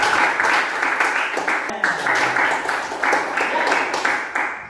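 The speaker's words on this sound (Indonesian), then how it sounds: "Tepuk tangan buat anak" A classroom of students claps steadily in rhythmic bursts, a room full of hands applauding together for several seconds, with faint voices mixed in.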